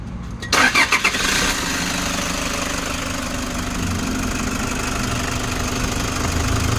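A Toyota HiAce van engine cranks in a few quick bursts, catches, and settles into a steady, loud idle that runs on alone without talk.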